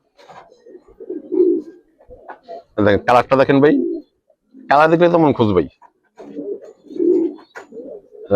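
Giribaz coloring pigeons in Bangladesh give soft, low coos in the gaps between a man's loud, close talk, the cooing quieter than his voice.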